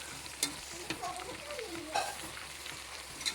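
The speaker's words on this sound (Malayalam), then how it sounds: "തക്കാളിയും കൂടി അതിൻ്റെ അകത്തിട്ട് നല്ലോണം ഒന്ന് വഴറ്റാം" Onions and tomatoes sauté in coconut oil for a biryani masala at a home iftar, giving a soft, continuous frying sizzle with occasional scraping stirs of a spoon, faint and close.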